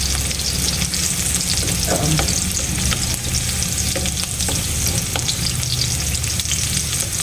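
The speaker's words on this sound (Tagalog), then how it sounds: "Igisa natin ang kalabasa and then ilagay natin ang alimango." Squash and mud crab sauté in a hot pan for crab in coconut milk, a steady close sizzle with occasional stirring scrapes running throughout.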